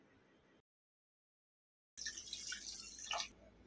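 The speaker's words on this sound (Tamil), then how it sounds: "1/2 கப்பில் இருந்து 1/4 கப்பு வரைக்கும் தண்ணி சேர்த்துக்கலாம்." Water poured into a simmering country-chicken curry with spices, a loud splashing pour for over a second after a brief silence, with dripping toward the end.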